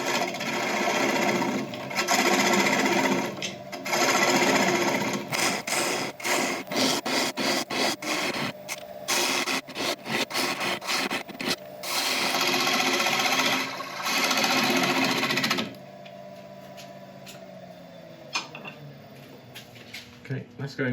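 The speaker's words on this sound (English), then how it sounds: "let's take this tailstock away and start hollowing out" A burl spinning on a wood lathe with the tailstock removed is hollowed out, the tool giving loud, rough scraping and chattering bursts in uneven stretches, then falling to quieter intermittent scratches near the end.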